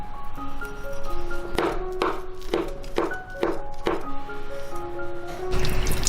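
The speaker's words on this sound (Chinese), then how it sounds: "再来把虾仁切成丁， 香菇也切成小丁。" A knife dices peeled shrimp and shiitake mushrooms on a cutting board, giving a run of about six crisp, evenly spaced chops close by, with no talking.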